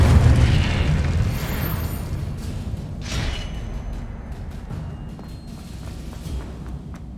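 An Incendio fire spell from Hogwarts Legacy bursts with a heavy low boom at the start, then a rushing, crackling roar and a second flare partway through that trails off into a lingering rumble.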